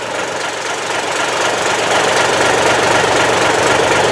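Big 14-liter diesel of an M923 five-ton wrecker truck running steadily close by, a dense, loud, knocking drone that holds constant throughout with no talk.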